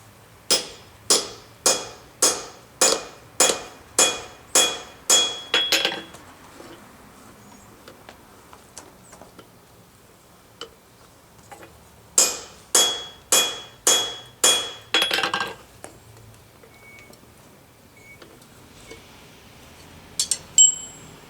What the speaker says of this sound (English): Now I'm going to use a rivet tool on the top.